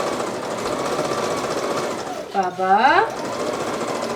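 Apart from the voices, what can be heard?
sewing machine stitching cape lining and shoulder pieces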